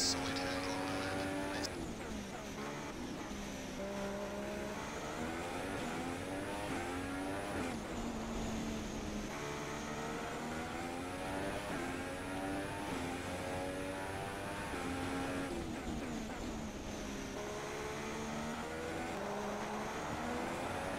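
A Formula 1 car's engine screams through a qualifying lap in F1 2016, with high revs rising and falling through repeated gear changes, loud and steady the whole way.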